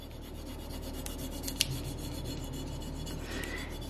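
A small tool rubs a rub-on transfer onto a glass jar with a continuous close scratchy rasp made of quick repeated strokes, steady throughout with one brief sharper tick near the middle.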